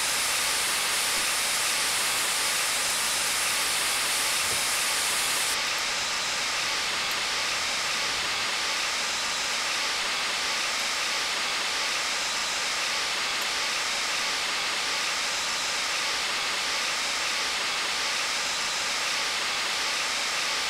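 Steam hissing from the opened cylinder cocks of the Flying Scotsman locomotive in wartime guise, a loud continuous broadband rush that holds steady for the whole stretch, with a slight change in tone partway through.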